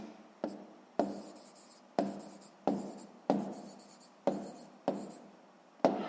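A pen writes on paper while a sixth-grade math exercise is worked out by hand, making quiet, close scratching strokes in a steady rhythm of about eight separate marks, with no talk.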